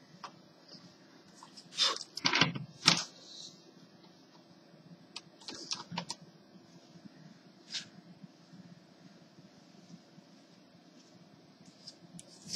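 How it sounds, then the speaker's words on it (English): HP 6530b laptop keyboard being handled during a replacement: a quick cluster of plastic clicks and taps, then scattered faint ticks and a soft rustle in an otherwise quiet room. "what I am doing is I am changing the keyboard from one laptop to another"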